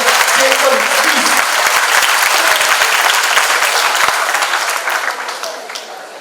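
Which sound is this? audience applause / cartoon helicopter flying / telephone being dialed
audience applause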